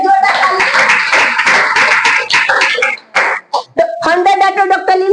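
An audience at a DXN meeting claps: dense, rapid applause fills the first few seconds, mixed with a loud voice on a microphone that continues after the clapping fades.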